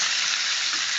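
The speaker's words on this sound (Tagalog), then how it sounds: "Iprito muna natin." Pork for Filipino humba fries in a pan, giving a steady, bright sizzle that stays loud and even for a moment, with no voices over it.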